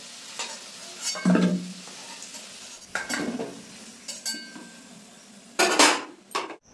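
Fried potatoes lifted out of hot oil for Kashmiri aloo dum: a spoon scrapes and clinks against the pan in several separate strokes over a soft sizzle.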